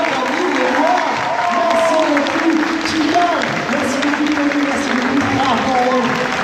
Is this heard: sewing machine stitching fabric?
no